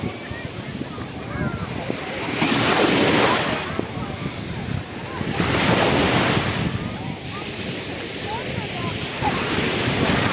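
Big, fast sea waves breaking in rainy weather, surging in loud rushing swells amid heavy wind noise, with quieter churning between the crashes.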